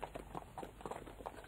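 Clip-clop of horse hooves as a tall rider approaches on horseback, a steady walking rhythm of hoofbeats at moderate distance with no voices.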